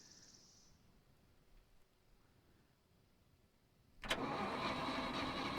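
A tractor engine in the video game SCUM cranks and catches after a few quiet seconds, then settles into a loud, steady running rumble up close.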